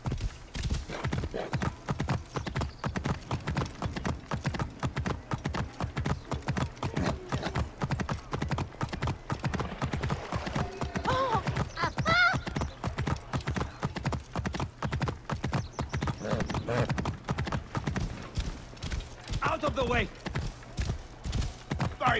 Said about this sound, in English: I was wondering why my horse wasn't showing up.